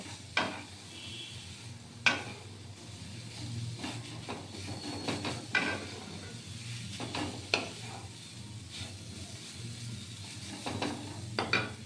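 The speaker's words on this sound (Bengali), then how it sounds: "গাজর আর সুজি একসঙ্গে ভেজে নেব" Grated carrot and semolina frying together in a pan for a carrot chocolate-chip sandesh, a soft steady sizzle with periodic scraping stirs of a spatula, close and quiet, no voices.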